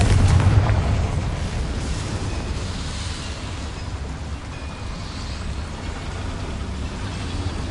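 A Confringo blasting spell in Hogwarts Legacy sets off a heavy explosion at a boiler, opening with a deep thump and then fading into a long, loud roaring rumble with no talking over it.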